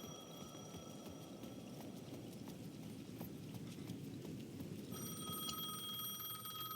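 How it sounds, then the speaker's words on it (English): Payphone at the edge of a plaza ringing in the video game Alan Wake 2: repeated electronic bell rings pulse steadily over a dull ambient background, growing slightly more prominent toward the end. "The payphone at the edge of the plaza was ringing again."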